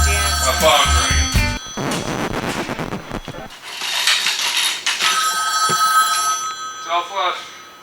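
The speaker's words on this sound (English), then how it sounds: "My phone's ringing." A phone rings during a junkyard car restoration in a garage, repeated electronic ringtone bursts mixed with loud clattering and shop noise, with people talking nearby.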